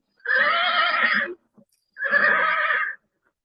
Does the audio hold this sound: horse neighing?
yes